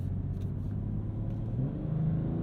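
A 2022 BMW M240i engine pulls hard under acceleration, a steady close-up rumble that rises in strength toward the end as the car finds another gear.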